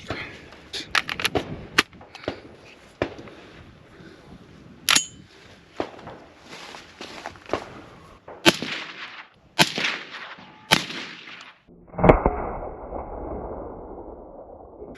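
Suppressed gunshots fired through a SilencerCo Hybrid 46M suppressor: a series of sharp, muffled cracks at irregular intervals, some in quick pairs, ending with one final shot that rings off briefly.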